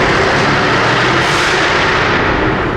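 A Jaguar F-Type R's exhaust blares loud and harsh in one continuous, dense roar, rough and crackling throughout, without any talk.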